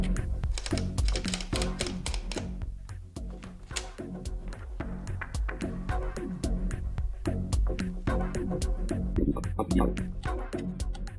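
An electronic braille typewriter clatters with rapid, irregular key strikes close by, dense bursts of tapping with short pauses, steady and fairly loud with no talk over it.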